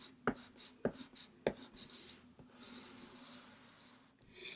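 Pen or pencil strokes on paper while jotting numbers by hand, a few sharp scratchy taps followed by softer rubbing strokes, close and quiet.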